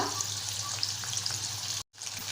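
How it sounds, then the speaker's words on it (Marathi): Chicken lollipops deep-frying in oil over a medium gas flame, giving a steady, close, bright hiss of bubbling oil that cuts out for a moment near the end. "आता आपण याच पद्धतीने दुसरी बाजूही 3-4 मिनिटं छान तळून घेऊया"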